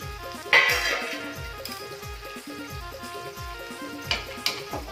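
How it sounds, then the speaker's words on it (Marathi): A lid comes off a pot of rani fish curry cooked with raw karonda berries: a loud metallic clink near the start and lighter clinks toward the end, over a steady low kitchen hum with regular soft thumps. "आता आपण झाकण काढून घेऊया"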